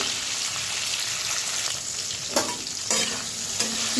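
Spices fry in hot oil for a catfish curry, a steady close sizzle broken by a few sharp scraping stirs of a spatula in the pan.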